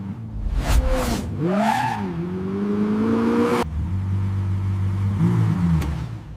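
A handcrafted Lexus LFA V10 engine runs during factory performance testing, loud and close, with revs sweeping up and down in smooth rising and falling tones before settling into a steadier drone.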